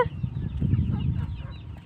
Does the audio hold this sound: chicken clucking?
yes